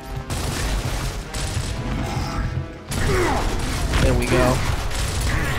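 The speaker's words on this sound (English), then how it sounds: "I have to really reload right now." Weapon reloading in the Gears of War video game: mechanical clanks and ratcheting clicks mixed with gunfire and game noise, while someone talks briefly over it.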